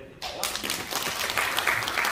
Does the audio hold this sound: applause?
yes